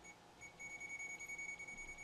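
A steady high-pitched electronic beep from an ANENG SZ303 multimeter's voltage detector held near a live AC wire sounds continuously, fairly faint, over a low background hum, with no talking.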